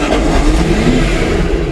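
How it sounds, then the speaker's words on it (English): A Lexus SC400 drift car's starter cranks the engine with a loud, continuous churning grind that carries steadily and close throughout, with no voices. "The starter's making an awful racket"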